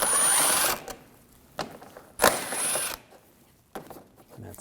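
An 8mm socket ratchet removes the headlight screws on a 2007-2013 BMW 328i, giving several short bursts of close mechanical clicking with quiet gaps between them.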